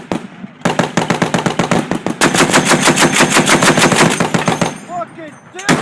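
A .50 caliber machine gun fires long, loud sustained bursts of rapid, evenly spaced shots, close and dominant, with a short pause early on and a brief tail of scattered sounds at the end.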